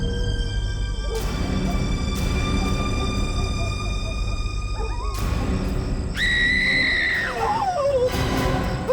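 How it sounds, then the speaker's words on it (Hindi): A sharp, high scream in a tense crime-drama scene near a tree, rising suddenly partway through and lasting a second or so over a dense, steady background. "वो चीखने की आवाज?"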